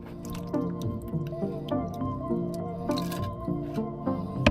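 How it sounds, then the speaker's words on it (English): Differential fluid dripping from the removed front differential cover of a Ford Super Duty F-250/F-350, steady close drips and wet squishy plops with no talk. "It was dripping before I even started prying on it."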